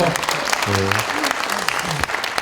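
An audience at a Korean lawmaker's legislative report meeting claps steadily and loudly throughout, a dense wash of hands with some voices and speech mixed in.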